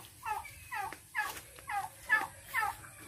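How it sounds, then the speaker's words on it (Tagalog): Repeated clucking calls from nearby caged chickens, about six short bursts in an even rhythm, clear over a quiet background. "at may nalagay na rin sa Robin ditong kulungan sa kanyang mga alagang manok."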